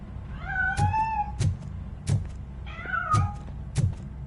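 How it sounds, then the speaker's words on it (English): A cat meows in the game Robocop: Rogue City, two drawn-out, rising and falling meows with soft thumps and knocks scattered between them, close and clear with no talking. "That cat must be hiding inside."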